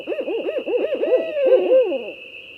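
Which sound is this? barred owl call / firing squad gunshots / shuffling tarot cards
barred owl call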